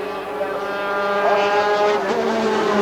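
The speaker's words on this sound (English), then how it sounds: "these thoroughbred Grand Prix bikes peel off and go through the very fast left-hander at Castrol Curve" Thoroughbred 350cc Grand Prix racing motorcycles at Bathurst's Mount Panorama in 1986, a loud sustained high-revving engine drone sweeping through a very fast left-hander, with a commentator talking over it.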